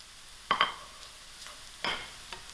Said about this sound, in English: To my onions, I'm going to add in my piece of cinnamon stick, my bay leaf, and also my whole jeera. Allow this to fry out.